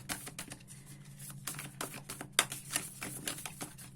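Close, rapid tarot card shuffling with crisp ticking riffles and slaps in an uneven rhythm, steady throughout with a faint low hum underneath.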